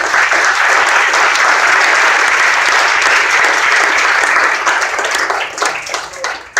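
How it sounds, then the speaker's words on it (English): Audience at a political forum held by young Democrats applauds steadily, a dense, even wash of many hands clapping that holds for several seconds and thins slightly toward the end. "they deserve another round of applause"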